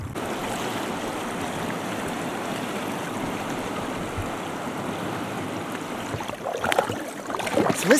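A river in the Verkhoyansk Range, the Sobolokh-Mayan, rushes steadily during a rafting trip, giving a constant broadband wash of flowing water, with louder splashes near the end.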